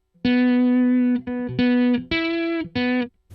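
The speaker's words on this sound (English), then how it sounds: "Not just boosting, but it has some tone, kind of distortion inside it." Electric guitar through a booster pedal with built-in distortion plays a few sustained, buzzing notes in short phrases, thick and saturated with a gritty overdriven edge, with brief gaps between.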